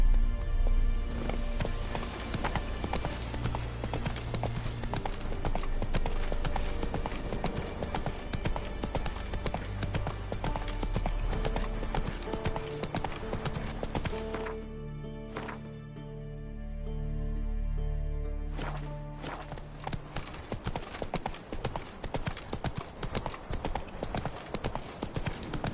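Horse Roach from the video game Witcher 3 galloping, loud rhythmic clip-clop hooves in a fast steady beat, briefly pausing before resuming, with game ambience beneath.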